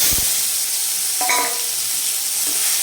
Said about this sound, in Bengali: এখানে কালো জিরে ফোড়ন দিচ্ছি আমি